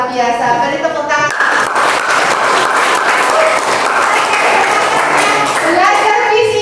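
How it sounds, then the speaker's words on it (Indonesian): Classroom applause in a physics lesson: a burst of many hands clapping fills most of the clip, loud and steady, with children's voices talking before and after it. "Beri tepuk tangan."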